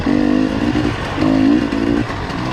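Dirt bike motorcycle engine revving hard at an enduro event in Binegar Quarry, two sustained loud bursts of throttle with a steady buzzing drone between them, close and continuous.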